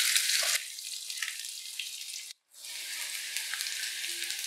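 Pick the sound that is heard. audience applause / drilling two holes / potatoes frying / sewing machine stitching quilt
potatoes frying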